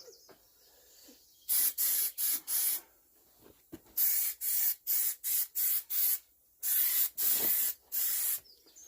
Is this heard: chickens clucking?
no